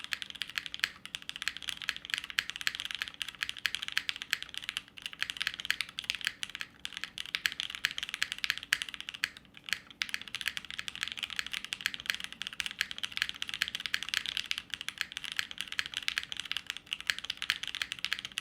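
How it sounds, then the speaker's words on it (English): Rapid, continuous clicking of a mechanical keyboard on a desk pad, soft and slightly muffled, typed steadily and close up with no talking. "I wanna see what this sounds like with the desk pad"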